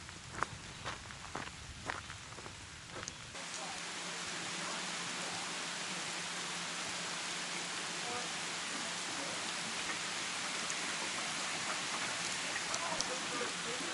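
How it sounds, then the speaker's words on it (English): Heavy rain pours steadily during a thunderstorm on the Appalachian Trail in Pennsylvania, a dense, even hiss that takes over after a few seconds of scattered footsteps and patter. "it's been pouring down rain pretty much the whole time"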